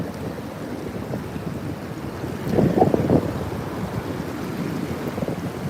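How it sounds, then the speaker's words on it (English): An ocean wave surges through a rocky channel at Currumbin on the Gold Coast, Queensland, Australia, a rushing wash that swells midway over steady wind noise and surf. "Watch this wave wash through."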